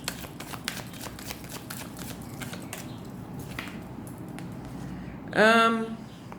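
Tarot cards are shuffled in a quick run of crisp, close riffling flicks that last several seconds, followed by a brief tonal sound near the end.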